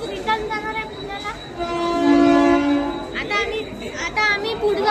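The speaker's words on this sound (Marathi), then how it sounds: "ट्रेन ज्याच्यात आम्ही आलो, आता हेच रिटर्न जाणार आहे पुण्याला." A train at Lonavala railway station, due to return to Pune, blows a loud sustained horn over a rumbling platform with background voices and children nearby.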